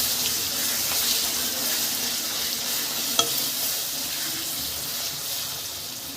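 A tomato pickle mixture is stirred in a pan, giving a continuous bright sizzling hiss with faint scraping and one small clink, close and steady with no talking.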